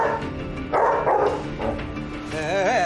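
A dog barks and yips at close range in a few short bursts, with faint whimpering and background noise around it.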